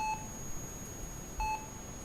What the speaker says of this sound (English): The hospital's beeping is loud, too loud.